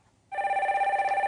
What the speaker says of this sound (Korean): 전화 받아볼게요.